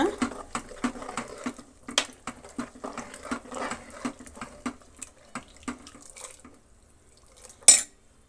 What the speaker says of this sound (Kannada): ಜಾರಿಗೆ ನೀರು ಹಾಕಿ ನೀಟಾಗಿ ಕ್ಲೀನಾಗಿ ತೊಳೆದು ಹಾಕೋಣ